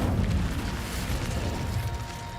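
Incendio fire spell cast in Hogwarts Legacy, a dense sustained roaring burst with low booming rumble, loud from the start and tapering slightly over a couple of seconds, no voices.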